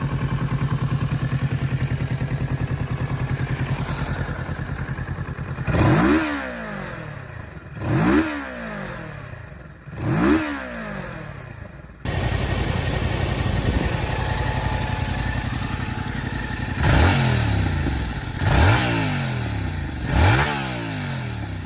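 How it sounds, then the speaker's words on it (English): A Kawasaki Z650RS motorcycle engine with a 180-degree crank idles with a steady throb, then revs sharply several times, each rise falling away before it settles back to idle. "it also uses a 180-degree crank, which gives it an exhaust note"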